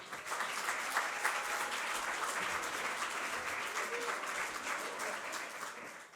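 An audience at a Christmas gospel show claps in sustained applause, a dense, even wash of many hands heard from a distance at low volume.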